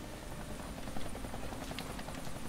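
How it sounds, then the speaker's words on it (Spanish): A helicopter in the video game Deadlight drones with a steady, rapid rotor chop at a constant level, alone without talk. "Y helicóptero"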